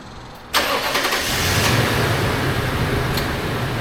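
A Toyota Sequoia truck engine starts by remote start with a sudden loud catch, then settles into a steady, close idle that runs to the end.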